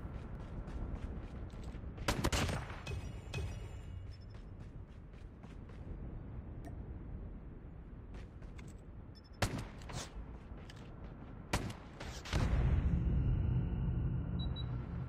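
Gunfire in the mobile shooter Call of Duty Mobile, with sharp isolated shots and short bursts spread over a low, continuous game-ambience rumble, a heavier barrage near the end, no voices.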